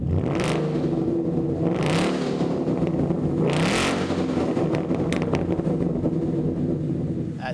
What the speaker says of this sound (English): Definitely loud and aggressive when you get on it.